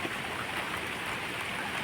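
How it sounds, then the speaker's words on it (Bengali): Rain falls steadily on a garden of large trees, a soft, constant wash of drops with no breaks and no voices. "বৃষ্টির আওয়াজে তোমরা কতটা কি শুনতে পাচ্ছ সেটা আমি বলতে পারছি না"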